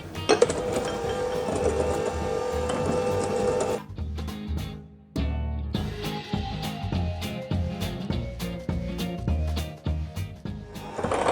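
An electric mixer whirs through brownie batter made with melted chocolate and eggs, its motor buzzing steadily with rapid clicks of beaters against the bowl, briefly stopping and then restarting.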